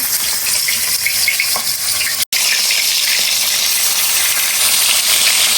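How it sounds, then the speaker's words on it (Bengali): Pieces of pangas fish fry in a pan with a loud, constant sizzle and crackle that fills the whole stretch, broken by one very brief dropout, with no talking. "তো ফার্স্টে হচ্ছে আমি মাছটা ভাজি করে নিব।"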